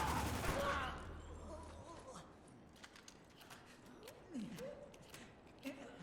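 Gunfire in the video game Spec Ops: The Line: a dense burst of shots opens the clip, then scattered quieter gunshots and impacts continue under soldiers' shouted voices.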